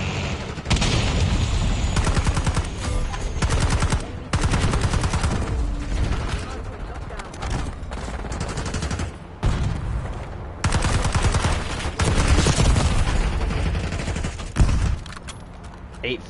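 Rapid bursts of gunfire from the Black Ops 6 video game on PS5 in ranked multiplayer, loud and dense, coming in long sustained volleys with short gaps, and a faint voice briefly under the shots.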